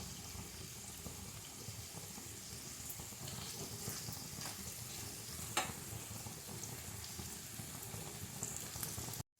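Paneer browning in a frying pan over a slow flame, a faint steady sizzle running throughout with a few light clinks, no talking.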